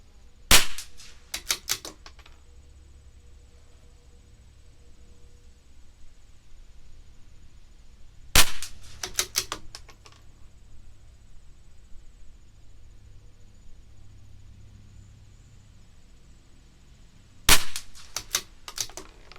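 A CZ 457 LRP rifle with an IBI barrel fires Lapua Center-X rimfire ammunition, three sharp cracks spaced several seconds apart, each followed by brief clicking bolt sounds, with quiet between shots.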